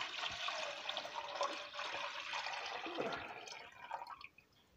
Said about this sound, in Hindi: इसमें मैं 1 जग पानी का डाल रही हूँ